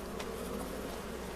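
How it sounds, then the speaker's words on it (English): Bees busy at their hives on a farm in the video game Farming Simulator 25. A steady, moderately quiet droning buzz holds throughout the short stretch, with no talking. "The bees are busily back at it"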